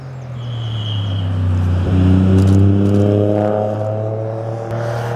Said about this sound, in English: Here comes the first car.